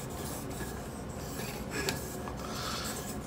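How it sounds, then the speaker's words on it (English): A previously sharpened jack knife edge is polished on abrasive grit, giving a steady, soft rasping rub that stays close and even throughout with a slight swell near the middle. "it's just polishing that previously sharpened edge"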